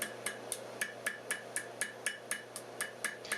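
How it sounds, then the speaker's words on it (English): Steady hammer strikes on induction-heated metal being bent into a hairpin, at an even pace, about four per second, with a clear bright clang on each blow over a low hum. "when I hammer on it to start the bend"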